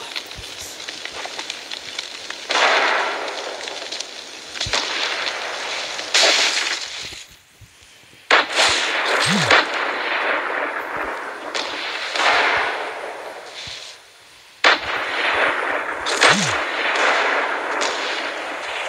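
Repeated gunfire from a Fortnite match, with bursts of shots cutting through dense, noisy game sound across the whole stretch, loud and close, with brief lulls between volleys.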